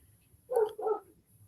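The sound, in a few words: dog barking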